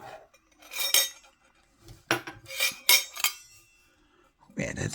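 A stainless steel cocktail bar set spoon is handled among other bar tools, giving several separate bursts of bright metallic clinking and rattling with quiet gaps in between.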